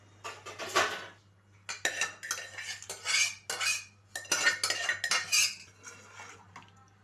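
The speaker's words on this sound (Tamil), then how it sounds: "மொச்சப்பயிறு தனியாக அவிச்சிட்டு இப்போ எல்லாத்தையும் ஒன்று எடுத்து கலந்துருவோம்." A spoon stirs cooked lima beans with masala in a pot for a dried-fish and lima bean curry, making repeated scraping clinks in bursts. The sounds are close and there is no talking.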